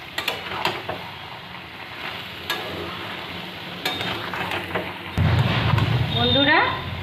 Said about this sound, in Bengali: এবার এটা নাড়বো